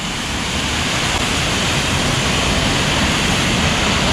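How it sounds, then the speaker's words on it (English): A horseshoe-shaped waterfall pours in a loud, dense, unbroken roar of rushing water that stays steady from start to finish. "one more view of the horseshoe type waterfall"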